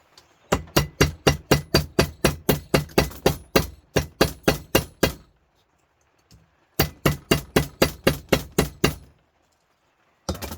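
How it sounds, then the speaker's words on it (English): Rapid, evenly spaced hammer blows ring out sharply, about twenty in a steady run, then a pause, then another quick burst of strikes. "Hammer action again."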